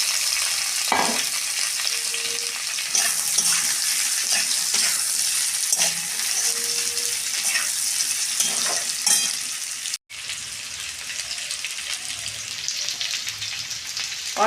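Vegetables (snake gourd) fry in hot oil tempered with bay leaf and five-spice seeds, a dense, close sizzle broken by repeated stirring scrapes, with a brief dropout midway.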